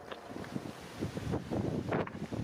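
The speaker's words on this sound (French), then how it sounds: "Aujourd'hui, beaucoup de vent" Wind roars and buffets a microphone in steady gusts on a road in Corsica, a broad rushing noise that swells louder toward the end, with no one speaking.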